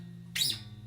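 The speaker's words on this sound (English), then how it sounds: "That is the sound of the skin sliding across that rough string" A single quick, bright scraping squeak of skin sliding along a wound guitar string, lasting about a quarter second over a low steady hum.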